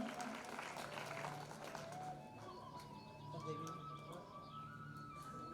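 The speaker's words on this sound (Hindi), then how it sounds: "जोरदार तालियों से स्वागत और अभिनंदन" Audience applause welcomes a guest at a community award ceremony, steady and moderately loud clapping with a voice over a public address system and a tonal background.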